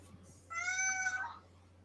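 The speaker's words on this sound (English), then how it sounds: "Oh, sweet kitty." A house cat gives a single clear, drawn-out meow at close range, rising and then falling, over a faint steady hum in a quiet room.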